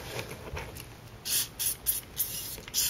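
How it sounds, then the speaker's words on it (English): Alcohol is sprayed onto shoe insoles in several short bursts of spray hiss, close and fairly soft, coming in quick irregular puffs over a quiet background. "And then you can spray a little bit again on the insoles."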